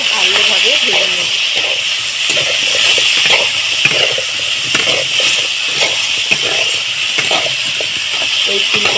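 Potatoes and cauliflower with salt and turmeric sizzle steadily in a hot pan, a dense continuous hiss with small crackles and no pause.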